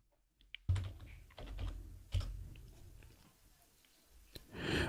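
Quiet close-up keystrokes on a computer keyboard as a sudo password is typed, a short irregular run of soft clicks and taps after a brief silence.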